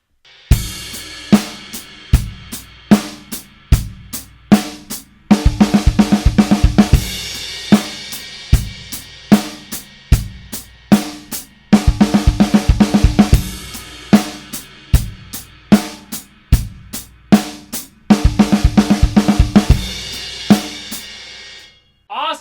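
A drum kit plays a groove broken up by 16th note triplet fills, sharp snare and tom strikes with kick and cymbal hits, loud and close in a repeating pattern, no talking.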